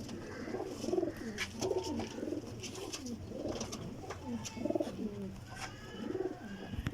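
Pigeons in a loft coo again and again in soft, rolling, close phrases, with scattered light clicks and scuffs between the calls.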